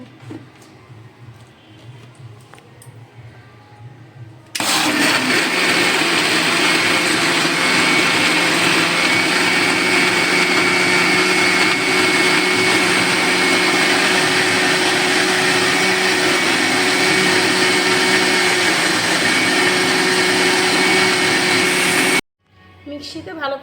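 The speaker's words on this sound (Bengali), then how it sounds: "মিক্সিতে ভালো করে ঘুরিয়ে নিয়েছি" A mixer grinder blends mango ice cream mixture with food colour, kicking in after a few quiet seconds with a loud, steady high-pitched whir that runs unbroken for about eighteen seconds before cutting off abruptly.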